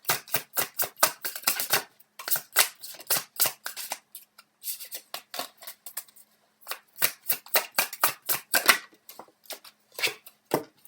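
Tarot cards are shuffled and drawn in dense bursts of crisp, close flicking and riffling, broken by short pauses, with no voice over them.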